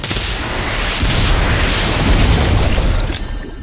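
A Confringo blasting spell bursts in Harry Potter Magic Awakened, a loud, dense, roaring explosion that fills the whole stretch and fades slightly at the end.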